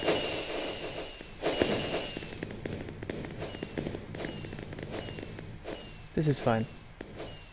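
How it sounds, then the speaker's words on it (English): Fireworks machine from the Rotarycraft mod in Minecraft, with rapid crackling pops and whooshing bursts in quick succession, loud and close, a sharp whistling burst near the end, and someone speaking briefly over it. "And yeah, that is the fireworks display"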